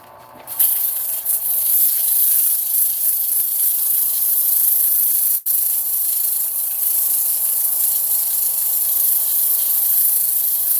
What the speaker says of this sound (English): let's give this thing a sand and turn it over